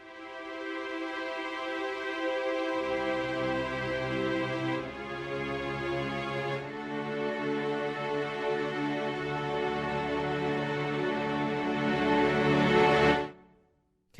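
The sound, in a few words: string patch of Red Room Audio Palette Symphonic Sketchpad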